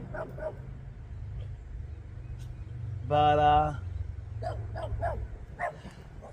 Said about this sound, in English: There's a little dog that's loose.